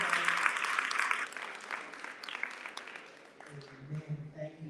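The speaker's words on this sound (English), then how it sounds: "So give her a round of applause" Applause for a speaker at a women's assembly in Newark, a burst of clapping that tapers off over a few seconds as a voice begins speaking.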